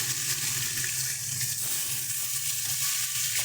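Pieces of rohu fish fry in hot oil in a pan, one side browning before being turned, giving a steady, dense sizzle that hisses continuously throughout with no voices.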